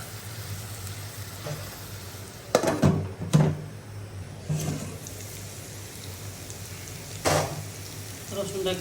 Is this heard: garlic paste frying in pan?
yes